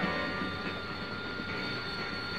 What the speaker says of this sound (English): VMA-542 has operated the Hawker Siddeley AV-8A Harrier V-stall jet fighter since 1973.